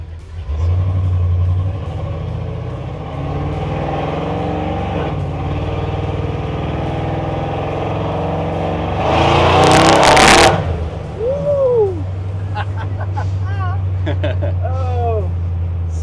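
A supercharged LSA V8 in a bagged GMC truck idles with a deep steady rumble, then barks through a loud rev before settling back to idle, with a few chirping squeals following.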